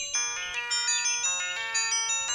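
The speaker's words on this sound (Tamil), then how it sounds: "இதோ ரேவதி தான் கூப்பிடுறேன்." A mobile phone ringtone for an incoming call plays a bright, repeating electronic melody in short pulsing phrases, moderately loud and alone, with no talk over it.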